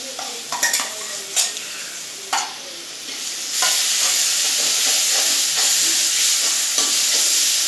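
Ground ginger, garlic and fennel paste sautéing in a pan, a steady loud sizzle with a few stirring scrapes and clinks early on, the frying hiss growing fuller and continuous partway through.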